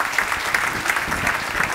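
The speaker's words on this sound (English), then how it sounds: "how about a nice round of applause for our sound man back there?" Audience applause for the sound man at a big band jazz concert, a dense steady roar of many hands clapping close and loud, no talk over it.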